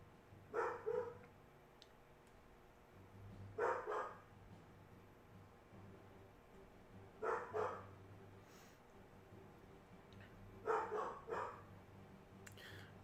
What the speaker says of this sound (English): My dogs better shut up